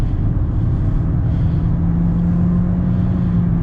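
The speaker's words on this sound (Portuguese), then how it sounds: "Agora eu vou dar uma pisadinha aqui só para a gente ouvir na questão de aceleração" A 2018 Toyota Corolla XEi 2.0 16V with CVT accelerates from inside the cabin, its engine revving into a sustained low, droning hum that stays steady and muffled throughout, with no talking.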